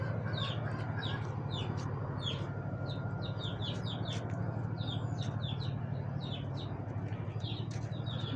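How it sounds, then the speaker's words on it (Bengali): Roosters and hens in a Bangladeshi village at dawn, with repeated clucks and crowing calls scattered over a steady low rural hum, moderately distant and without any voices. "দেখেন মোরগগুলো ডাকছে"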